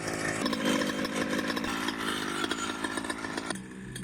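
The small gasoline engine of a hybrid crop-spraying drone runs loud and steady with a buzzy rattle, then its pitch and volume drop sharply near the end as the throttle eases.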